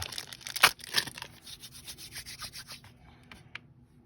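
Polymer clay, twisted together with a silver piece, is rubbed back and forth by hand, giving a close, steady series of soft scraping strokes that fade and stop near the end.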